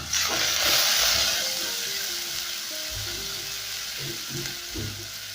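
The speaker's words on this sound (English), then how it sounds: "So I'm going to saute my onions till they start turning translucent." Onions drop into about one and a half tablespoons of hot cooking oil for a chicken curry, setting off a loud hiss that settles into steady close sizzling, with soft low knocks from stirring, and no talk.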